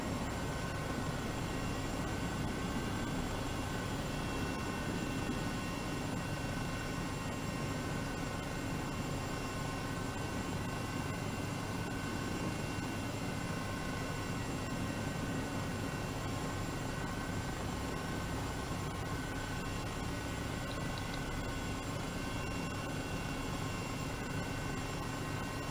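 EC 135 helicopter in Microsoft Flight Simulator 2020, its steady rotor and turbine drone loud and continuous throughout with a constant tonal whine and no talking.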